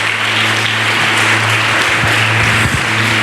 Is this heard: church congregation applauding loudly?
yes